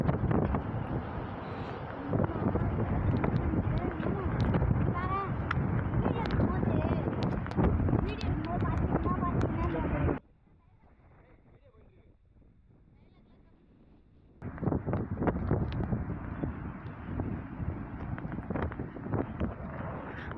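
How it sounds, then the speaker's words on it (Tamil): Strong wind blasts across a moving vehicle on a ride, producing a heavy, continuous low roar of wind noise that drops out briefly midway before returning just as loud. "செம்ம காற்றடிக்குதுங்க, வண்டி அடி சைடில் தள்ளுது"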